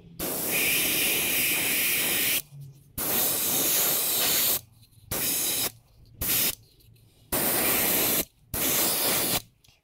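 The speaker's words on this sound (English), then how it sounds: "All right, and time to do some spraying." Loud hissing bursts from a spray can painting a mahogany musky lure, several sprays of varying length separated by short pauses, with a faint clicking nozzle between them.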